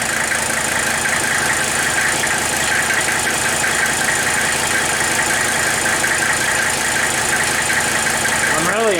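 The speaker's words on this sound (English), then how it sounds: "But man, this engine sounds amazing." A Mercedes 300SD diesel engine idles after an injector rebuild, a steady, loud, close clatter with even knocking that runs throughout, with a brief rising whine near the end.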